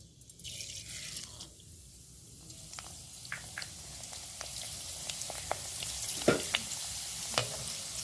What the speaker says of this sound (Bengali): দিয়ে ভালো করে ভেজে নেবো সাবুগুলো